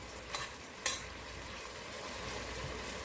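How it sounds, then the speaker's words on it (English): Brown stew chicken being stirred in a pot, a soft steady scraping and simmering bed with a couple of brief louder clinks near the start, fairly close and alone. "Just going to mix that up a little more even for you guys."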